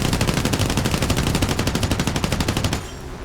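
Aircraft machine guns on a PBY-5A Late flying boat in War Thunder fire in a loud, continuous rapid burst for nearly three seconds, then cut off abruptly, leaving a low hum.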